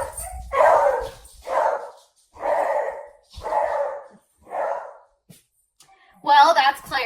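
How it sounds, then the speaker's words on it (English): A beagle barks loudly and close in a slow series of five or six separate yowling barks, spaced about a second apart, with short quiet gaps between them. "So just in case you're curious, he's a beagle."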